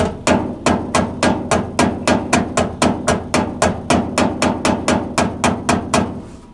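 Rapid, steady hammer blows strike fresh weld beads on a steel patch panel welded into a car body, about three sharp metallic hits per second, loud and close, continuing alone without speech.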